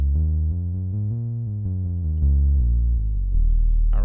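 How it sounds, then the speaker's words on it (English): Deep Bass preset on the Logic ES1 synthesizer: a loud, sustained low bass line of smooth, soft-edged notes changing pitch every half second or so, playing alone with no talk. "this is in the ES1 synthesizer, and it is called deep bass"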